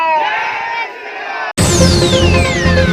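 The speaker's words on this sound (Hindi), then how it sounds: "जितेंद्र तिवारी ने समर्थकों संग लगाया जय श्री राम का नारा" Supporters chant a religious slogan at a political welcome rally in Asansol, a loud crowd of overlapping shouting voices that cuts abruptly to a second burst of cheering with whistle-like tones.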